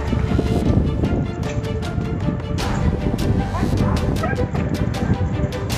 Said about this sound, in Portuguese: Ó, tem uns cachorrinhos ali, ó